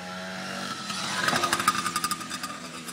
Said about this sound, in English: It's a fucking bike with a motor on it.